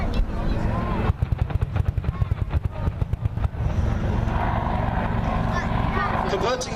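An Apache attack helicopter performs a rapid climb and bunt at the 2017 Duxford Air Festival. Its loud turbine roar carries a burst of sharp, rapid rotor-blade thumps, with someone commentating over it.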